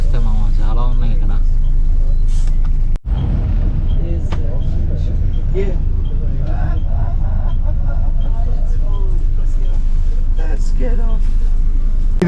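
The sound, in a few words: bus and street traffic in Ho Chi Minh City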